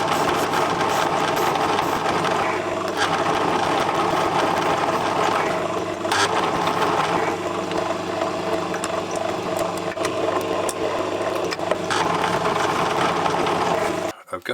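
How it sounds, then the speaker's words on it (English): A small lathe runs steadily while trimming and chamfering short brass parts, a continuous close mechanical hum and whir with faint cutting chatter, stopping abruptly at the end. "I'm just going to trim them down to size and chamfer the ends"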